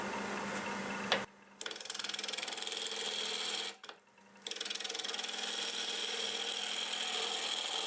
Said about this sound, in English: I'm going to take my 5/8 bowl gouge, start hollowing it out.